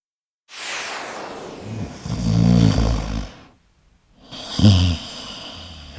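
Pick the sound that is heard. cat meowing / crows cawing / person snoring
person snoring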